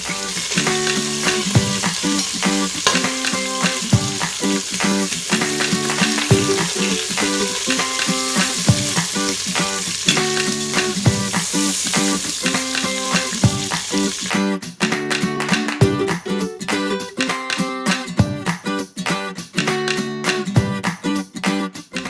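Pork pata pieces frying in a pot for kare-kare, a continuous loud sizzle with crackling spatter and scraping stirs, growing busier and sharper partway through.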